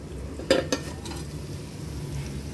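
Tempering spices sizzle in oil in a pan, with onions frying, a soft steady hiss under a couple of brief utensil scrapes and clinks near the start.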